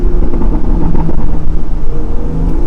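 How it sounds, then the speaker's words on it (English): BMW M2 with the N55 engine on a Bootmod3 Stage 2 tune, sports cat, intercooler and chargepipe, rumbling loudly and close with a steady, uneven burbling exhaust throughout. "I left the burbles at OEM, but it seems to be pretty obnoxious at the moment"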